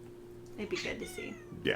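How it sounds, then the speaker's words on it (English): A house cat meows a couple of times, short, fairly close calls heard under and between people chatting casually. "That's our cat."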